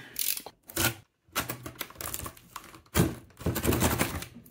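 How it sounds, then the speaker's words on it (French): Someone opens a parcel one-handed: a series of sharp taps, thumps and rustles of packaging, close and fairly loud, broken by brief pauses. "je vais ouvrir le colis"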